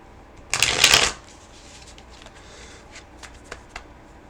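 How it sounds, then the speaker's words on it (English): A deck of tarot cards is shuffled in one quick, crisp riffle lasting about half a second, followed by faint soft card handling and small taps in a quiet room. "Let me shuffle real quick."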